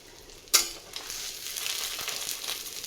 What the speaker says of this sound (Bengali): এইভাবে এরকম এপিঠ ওপিঠ একটু লাল লাল করে ভেজে নিতে হবে,